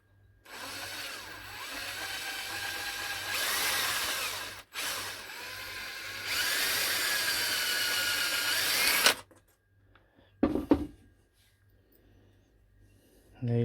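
A power drill whirs steadily as it twists four wire strands into one for a rabbit snare, running in two long bursts with a brief pause between, then stopping before a few clattering knocks.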